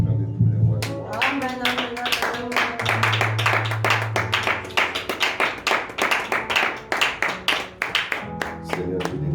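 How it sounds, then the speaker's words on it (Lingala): A church congregation claps and cheers for the kings, with rhythmic hand claps that grow sharper and more regular over a sustained sung or spoken tone. Voices carry on beneath. "Est-ce qu'on peut acclamer pour les rois?"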